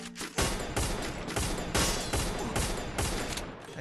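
Rapid automatic gunfire in the mobile battle royale game Free Fire, a dense, loud burst of shots in quick rhythmic succession, fired close and continuously for several seconds.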